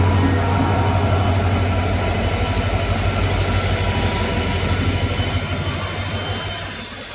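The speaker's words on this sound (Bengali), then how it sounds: "ট্রেনে উঠে পড়েছি আমাদের হাওড়া চক্রধরপুর।" Howrah–Chakradharpur passenger train heard from on board at night, a loud continuous rumble with rhythmic wheel clatter and a high whine, fading slightly toward the end.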